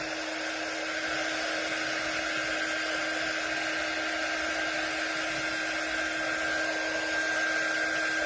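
A hair dryer blows steadily on a sparkly mermaid craft, a continuous whirring hum with a constant high whine, unchanging throughout and with no talking.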